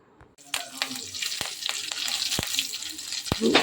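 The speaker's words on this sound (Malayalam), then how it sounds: "ഇനി നമുക്ക് കടുക് വറുക്കാം." Close-up sizzling of oil with sharp, scattered pops and crackles as mustard seeds burst in a hot pan with dried red chillies and curry leaves.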